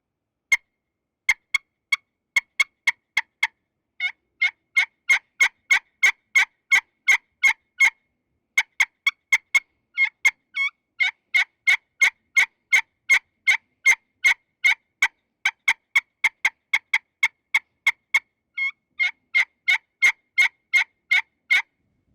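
Rapid series of sharp turkey yelps and clucking cuts made with a turkey call, imitating an excited hen, delivered in quick bursts with brief pauses between runs, loud and close.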